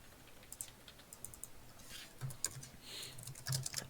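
Quiet, irregular clicks of a computer keyboard being typed on come in short bursts of keystrokes, faint and close.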